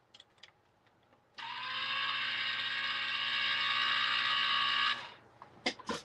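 A Vagabond die-cutting machine runs with a steady mechanical whir and gear-driven rattle for about four seconds, fairly loud and close, starting and stopping abruptly between quiet clicks.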